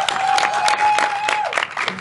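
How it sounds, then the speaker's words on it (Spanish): Audience applause at a live talk event in a Spanish venue, a short burst of clapping with crowd noise throughout, under a steady tone. "Un aplauso."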